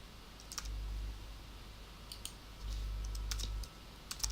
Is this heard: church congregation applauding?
no